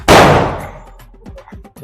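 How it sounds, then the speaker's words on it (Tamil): One loud Diwali firecracker cracks right at the start and its echo dies away, followed by brief, quieter voices talking close by. "பாத்தீங்கன்னா மழை பெஞ்சு பட்டாசு வெடிக்கிற"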